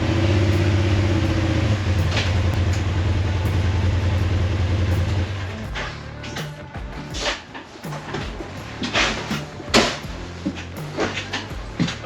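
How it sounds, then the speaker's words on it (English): A Polaris RZR UTV's engine idles with a low steady rumble, then cuts out; clattering, knocks and bumps follow as it settles inside an enclosed trailer. "Let's load up the RZR."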